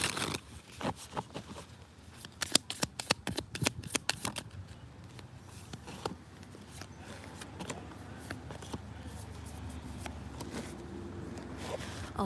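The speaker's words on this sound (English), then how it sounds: "just so that you can see me shuffle, and then I'll pick you guys back up again and I'll show you the cards" Tarot cards being shuffled by hand close up, a flurry of rapid crisp riffling snaps in the first half, easing into softer continuous sliding and rustling, with no voice.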